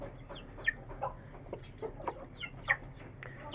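A hen clucks softly while pecking at feed in a coop, with scattered short clucks and faint pecking sounds at close range, quiet and without talk.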